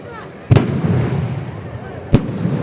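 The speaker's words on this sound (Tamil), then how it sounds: "இந்த வெடி கண்டினியூ ஓடிட்டு இருக்குது" Firecrackers at a festival in Kottaipattinam go off in two sharp, loud booms about a second and a half apart, over a low rumbling background.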